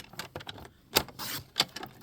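Paper trimmer slicing a sheet of cardstock, quiet clicks and handling noises followed by two sharp scraping cuts of the blade across the paper, close and soft, no speech.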